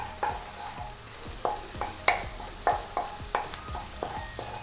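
Garlic and spring onion fry in a pan, a steady soft sizzle broken by regular scraping stirs of a spatula, close and moderately quiet with no talk.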